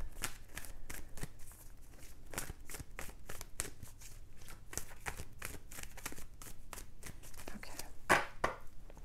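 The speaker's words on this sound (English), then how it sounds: "let's see what the cards say" Wisdom of Avalon oracle cards by Colette Baron Reed are shuffled by hand, a rapid run of crisp riffling snaps and slaps repeating close up for several seconds, with no talking.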